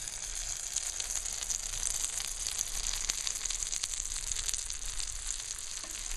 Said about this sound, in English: lay it down and pan fry it